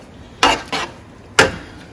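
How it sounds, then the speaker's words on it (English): Drained pasta being stirred into sauce in a pot, heard as three distinct clanks of a utensil against the pot, two close together and one after a pause, with no talking. "Okay, so we just drained our pasta, and now I'm going to mix it."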